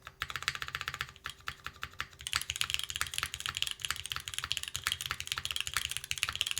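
Fast, steady typing on an Optica 60% mechanical keyboard, with crisp, closely spaced key clacks close to the mic and a few heavier strokes mixed in.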